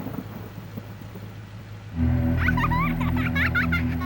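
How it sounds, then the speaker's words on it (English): Heavy rain hiss and a deep rumble of thunder burst in suddenly after a quieter stretch, part of a radio advert for the Maibatsu Thunder car in GTA Vice City, with warbling tonal sound effects layered on top. "Because after you get struck by lightning, there's thunder."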